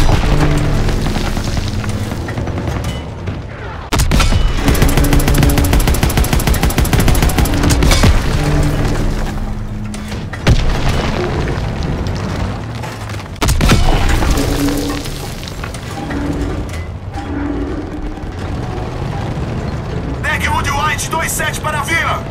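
Panzerschreck rocket explosions in the World War II shooter Call of Duty WWII, heavy booms and blasts amid sustained gunfire and battle din, loud and dense, with shouted voices in the mix.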